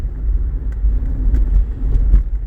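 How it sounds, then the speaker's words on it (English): Road traffic near Central Park, a steady low rumble of car engines close by, rising and falling as vehicles move past, with faint clicks over the hum and no voices. "this is the most cars I've seen on the road"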